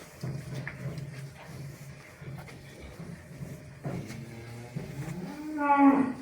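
Cattle low and shuffle in a barn, with a loud drawn-out moo rising near the end over quieter background stirring.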